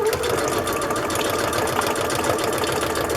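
Sewing machine running a straight stitch through fabric for a book reader's journal, a close, steady mechanical whir with fast rhythmic needle clatter throughout, heard alone.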